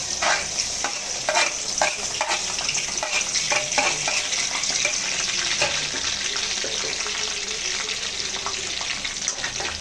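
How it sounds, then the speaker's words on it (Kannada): Onions dropped into hot oil in a home kitchen sizzle and fry steadily while a spoon stirs, with scattered clinks and scraping over a continuous hiss, close and moderately loud, no talking. "ನಾವು ಇದಕ್ಕೆ ಈರುಳ್ಳಿ ಹಾಕೊತಾ ಇದ್ದೀವಿ"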